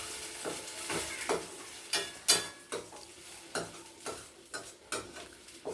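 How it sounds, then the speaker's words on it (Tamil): Tomato paste with chili and salt being stirred in a pan, a soft sizzle under a string of sharp spoon scrapes and taps at an uneven pace, close but quiet. "மிளகா, உப்பு இதுக்கு அதை வந்து ஒரு கிண்டி விடுறோம்."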